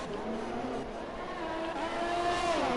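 F1 race cars at the Vietnam circuit in the F1 racing game, a Ferrari and a Haas running side by side, their engines a steady high whining drone that rises slightly in pitch, with no voices.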